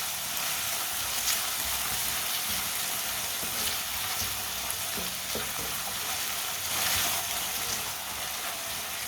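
Ingredients frying in a pan while being cooked with peas, a steady bright sizzle and crackle that continues evenly throughout, fairly close and with no talking over it.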